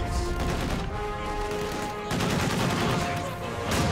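Dense overlapping gunfire and machine-gun bursts ring out during battle in narrow ruined streets in the Company of Heroes 2 strategy game, loud and continuous with no talk.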